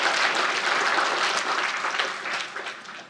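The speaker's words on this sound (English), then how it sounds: "give yourselves some applause. Please, clap your hands." A keynote audience at an AT&T open-systems network conference gives steady, full applause that fades slightly toward the end.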